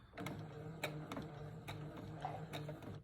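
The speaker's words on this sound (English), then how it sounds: "I'm going to sew a straight stitch going down." A home sewing machine running a straight stitch on a child-size braided fabric headband: a quiet, continuous mechanical whir with regular ticking clicks, close and unaccompanied by talk.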